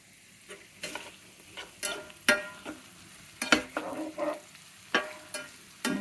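Whole grain wheat-flour atta noodles being fried and stirred in a pan, a soft sizzle under a series of sharp scraping strokes of the spoon, close and irregular, with no talking.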